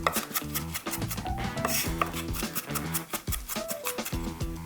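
A knife chops green leafy vegetables, seven kinds of leaves, on a board in quick, repeated taps, heard over steady background music.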